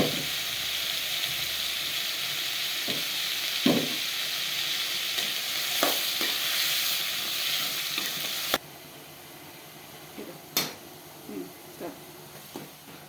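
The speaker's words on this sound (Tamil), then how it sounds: "இப்போது தக்காளியை சேர்த்து கூடவே உப்பு மஞ்சத்தூளையும் சேர்த்து நல்லா வதக்கி" Chopped tomatoes with salt and turmeric sizzle and hiss while being sautéed in a pan, with scattered clinks and scrapes from stirring; the frying noise softens partway through and the intermittent stirring taps continue.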